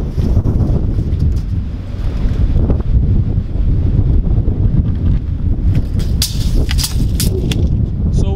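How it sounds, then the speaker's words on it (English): Strong wind buffets the microphone outdoors at a house during vinyl siding work, in a steady, loud roar with gusty low rumble throughout. "It's very windy at this point."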